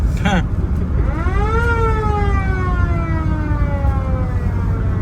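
A siren wailing up and down in pitch, loud and near, over steady engine and road noise.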